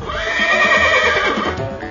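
A horse whinnies loudly in the Gallop Racer 2004 horse racing video game, one long clear neigh that rises and trails off over about two seconds, with no talking.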